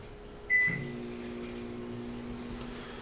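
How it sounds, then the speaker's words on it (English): A microwave oven heating pizza in a home kitchen, heard as a steady low electrical hum with a brief door or button clatter and beep near the start, moderately close and without talk. "if you hear some microwave stuff moving around, it's because wife is making pizza for daughter"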